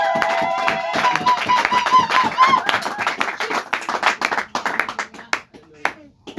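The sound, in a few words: congregation applauding in church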